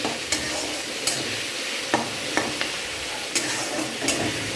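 Onion, garlic, ginger, tomato, chilli and panch phoron spices fry in oil for a fish curry, with a steady close sizzle and several sharp scraping stirs of a spoon against the pan.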